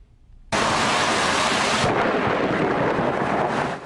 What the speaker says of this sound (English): It's almost thunderstorm season, but a storm doesn't need to be severe to be dangerous.